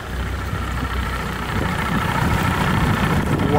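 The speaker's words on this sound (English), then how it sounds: "Do you guys get that engine to be a diesel to not make noise?" A 150 hp OXE diesel outboard engine runs on a boat in Miami, giving a low, steady, fairly quiet drone that holds through the whole stretch and swells slightly toward the end.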